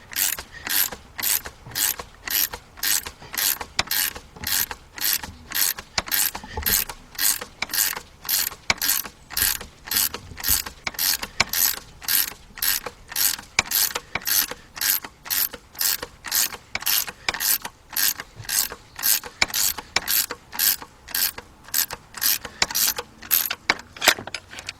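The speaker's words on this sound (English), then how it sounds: "it should start pulling that pulley right off of there" A puller tool on the engine of a 1998 Cadillac Seville STS 4.6 draws a pulley off with sharp, evenly spaced ratcheting clicks, about two each second, loud and close and without pause.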